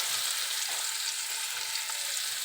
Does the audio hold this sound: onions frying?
yes